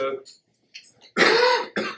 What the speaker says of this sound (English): I have this residue cough from flu that I went through 2 weeks ago